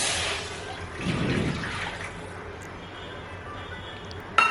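Water is poured into a cooking pan for kesari, about three cups for one cup of rava. A brief splashing gush comes close by, then fades into a soft, steady watery hiss.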